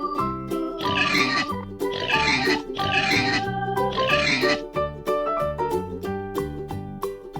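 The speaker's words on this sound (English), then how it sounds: "This is a pig." A pig oinks and grunts close up: four loud, drawn-out calls in a row, then a run of shorter, quicker grunts, with no other sound.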